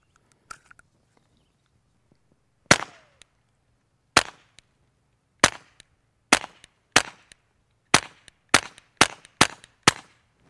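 A pistol fires through a KGMade Swarm 22 full titanium modular silencer, about ten sharp, dry pops at irregular intervals after a brief quiet opening, the later shots coming in a quicker string, close and clear with no talking.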